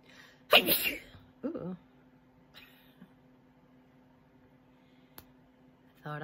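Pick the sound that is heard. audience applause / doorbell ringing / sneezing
sneezing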